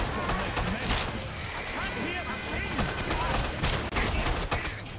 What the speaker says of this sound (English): I'm gonna chuck another one in there just to be safe